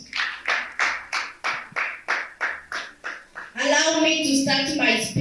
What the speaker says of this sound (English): You may please give them a round of applause.